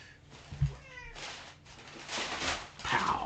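Cats play-fighting give a few faint meows and rustling scuffles, with brief wheezy yowls and soft thumps at close range.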